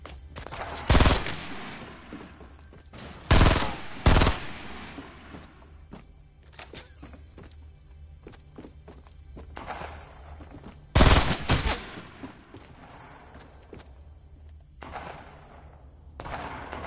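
Short, loud bursts of video game gunfire break out at intervals over a quiet background, a few sharp volleys standing well apart with fainter shots between them.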